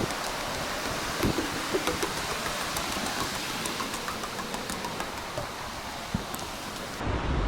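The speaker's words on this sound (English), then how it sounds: "It's starting to rain a little harder." Rain falling steadily at a campsite, a dense, even hiss with scattered soft patters and occasional low rumbles, continuous and close throughout.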